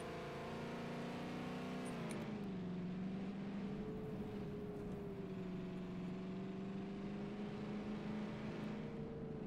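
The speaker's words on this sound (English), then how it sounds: "I got a new Jeep." A Jeep engine drones steadily as it is driven in a video game, a continuous mid-pitched motor hum that dips and rises slightly in pitch, heard alone without voices.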